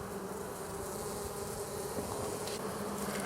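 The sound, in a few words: honey bees at a beehive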